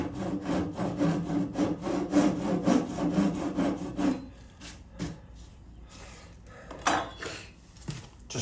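Hand saw trimming back a glued, bent wood piece to remove a cracked section, steady rhythmic rasping strokes close up for about four seconds, then a few scattered knocks and scrapes.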